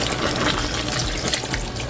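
Water pours steadily into a cooking pot of Nigerian chicken stew, a continuous splashing gush that stays loud and close for the whole stretch with no talk over it.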